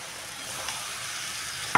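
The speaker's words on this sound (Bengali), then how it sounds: "ভালো করে মশলাটা মিশিয়ে নেবো একসাথে" Fried potatoes and soybean chunks being stirred into a cooked spice mix in a pan, a soft steady sizzle with a sharp scrape of the spoon near the end.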